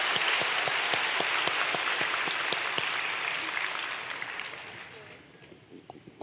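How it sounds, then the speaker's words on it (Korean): Church congregation clapping for the children at a special dawn prayer service, a dense steady applause that holds for several seconds and then thins out toward the end. "우리 아이들을 위해서도 박수 한번 치겠습니다."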